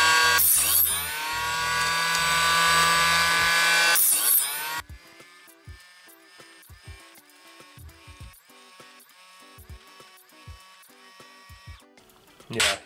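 A power-tool trimmer cuts 5.56 brass cases held in an aluminum jig, giving a loud, steady, high-pitched whine for several seconds, then stopping; sparse clicks and light handling follow before a brief final burst.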